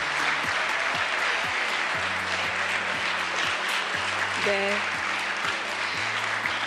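A crowd applauds at a government policy briefing event, a sustained, moderately distant wash of clapping with a low tonal hum and sound-system tones underneath and faint voices mixed in.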